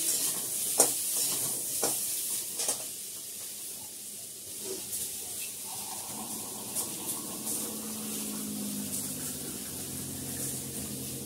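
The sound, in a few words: stirring tomatoes in a pan and adding water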